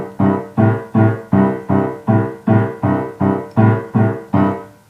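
A piano boogie-woogie left-hand bass figure pounds out ten even, evenly spaced chords in straight time, steady and loud, with no other instruments or voices.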